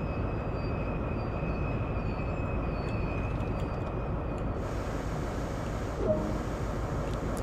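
A Class 43 high-speed diesel train in Train Sim World's Great Western Express route rumbles steadily as it brakes to a halt at a red signal, with a constant low engine drone and a faint whine, no talk.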